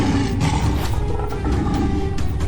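Loud, continuous roaring from a lion in a dense forest, a thick low rumble that holds steady for a couple of seconds with slight pulsing swells.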